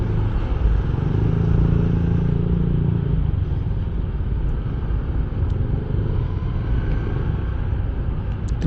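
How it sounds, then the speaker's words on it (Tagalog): Road traffic near Los Baños, Laguna on the way to Cavinti: a constant heavy rumble of passing cars and motorcycles, loud and close, with engine drone filling the whole stretch. "traffic diri mga boss"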